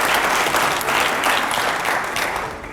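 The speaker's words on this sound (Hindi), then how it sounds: "जोरदार तालियां हो जाए पहले तो।" A crowd applauds loudly and continuously, dense clapping filling the whole stretch before easing slightly at the end.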